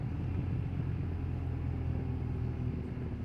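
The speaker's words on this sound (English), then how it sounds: "so I'm gonna downshift, release the clutch" Motorcycle with a DCT semi-automatic gearbox, ridden on the highway, after a downshift and clutch release: steady, close engine rumble with continuous low drone and wind noise, no speech.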